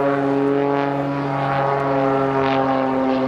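A Pitts Special aerobatic biplane dives during a display at Cosford, its propeller engine giving a loud, steady droning buzz with strong harmonic tones that waver slightly as it passes, with no voices over it.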